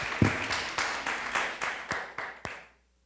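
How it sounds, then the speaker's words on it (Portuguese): A church congregation claps during a worship service, a modest, fairly distant patter with a few sharper claps standing out, fading away after under three seconds. "irrompendo em aplausos para o Rei Jesus"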